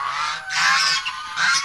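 Geese honk repeatedly nearby on a farm with ducks, several loud, nasal calls overlapping in quick succession.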